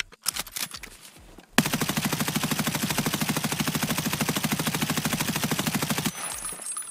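An M4 rifle in a video game fires a long sustained automatic burst of rapid, evenly spaced shots, loud and close, preceded by a few separate single shots and a brief pause.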